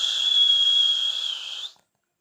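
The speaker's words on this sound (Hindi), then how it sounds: "टमटा ने विशेष सीटी बजाई" A single sustained, shrill whistle sounds as a comic sound effect, holding a steady high pitch for about one and a half seconds before cutting off abruptly into silence.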